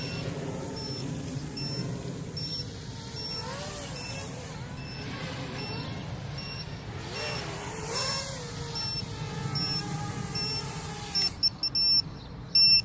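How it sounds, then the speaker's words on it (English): Buzzer on an LDARC 200GT quadcopter drone beeping in evenly spaced short high tones across the clip, alongside a low hum and brief chirping sounds, with one rapid burst of beeps near the end. "So we got the buzzer now."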